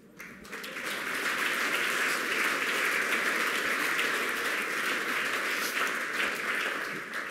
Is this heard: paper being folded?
no